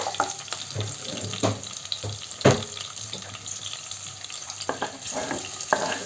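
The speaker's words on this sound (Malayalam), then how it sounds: "ഒരു നാല് പച്ചമുളക് ചേർത്ത് കൊടുക്കുന്നുണ്ട് നന്നായിട്ടൊന്ന് ഇളക്കി ഒഴിപ്പിച്ച് കൊടുക്കാം" Green chillies frying in a pan with oil while being stirred, a close sizzle broken by several sharp scraping and clattering stirring strokes, with no talking.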